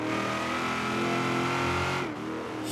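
Engine of an HSV GTS Maloo ute in Forza Horizon 3, a loud sustained whine with layered harmonic tones that rise slightly before dipping near the end, heard alone.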